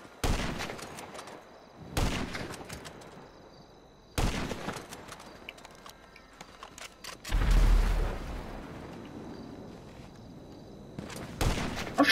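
Repeated gunfire bursts in a video game, loud and close, arriving in sharp clusters separated by brief quieter gaps, with a heavier boom near the middle and one last shot at the end.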